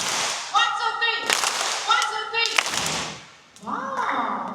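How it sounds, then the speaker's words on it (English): A seal show audience at Singapore Zoo claps in unison on a shouted count, a few sharp crowd claps punctuating an amplified presenter's voice and upbeat background music. "Alright, remember, the secret is one single clap."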